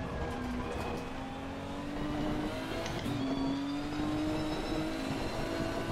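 A race car accelerates at full throttle around a wet Silverstone circuit, its engine holding a steady, sustained drone with rising pitch sweeps across the whole stretch, close and continuous with no voices over it.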